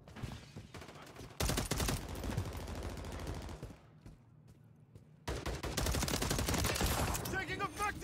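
Call of Duty Modern Warfare 3 gunfire comes in heavy automatic bursts, first one long volley, then a quieter pause, then another loud sustained burst, with voices shouting amid the shooting.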